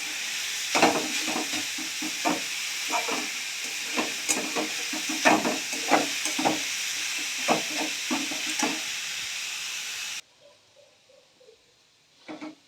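Grated carrots fry in ghee for carrot halwa while a spatula stirs them in a steady run of scraping strokes over constant sizzling, close and clear, before the sound drops away near the end.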